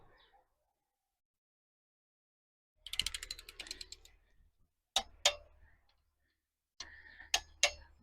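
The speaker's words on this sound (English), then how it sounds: "Start torquing this down." A torque wrench ratchets on a bolt of a small block Chevy engine, with several short bursts of clicking separated by quiet pauses, heard close.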